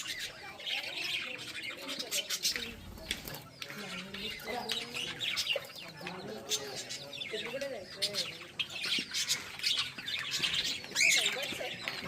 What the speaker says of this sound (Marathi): रंगीबिरंगी पक्षी.